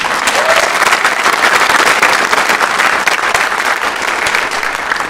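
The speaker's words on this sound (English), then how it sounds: "you can clap for that" Sustained applause from an audience at a school band award ceremony, dense steady clapping filling the room for several seconds without a break.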